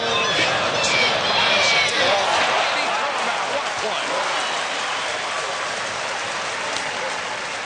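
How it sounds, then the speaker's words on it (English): A baseball stadium crowd at a college game applauds after a great fielding play, a broad sustained clapping and cheering that slowly tapers, with a broadcaster's voice talking over it. "That does deserve applause."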